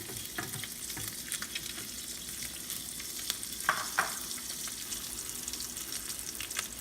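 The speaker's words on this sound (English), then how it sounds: "I have a pan over here that's already preheated with a little bit of olive oil. I'm just going to set that down in there" Salmon searing in a preheated pan with a little olive oil over a fairly high flame, giving a steady close sizzle and crackle with a few brief louder pops partway through, no talking.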